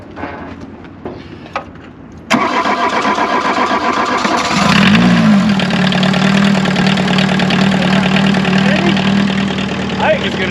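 A wrecked car with no floor and a loose seat cranks with a sudden loud burst, catches and settles into a rough, steady idle that carries on close and loud under a voice.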